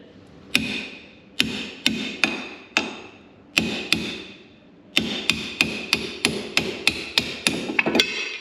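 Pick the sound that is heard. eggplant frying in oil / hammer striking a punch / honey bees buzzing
hammer striking a punch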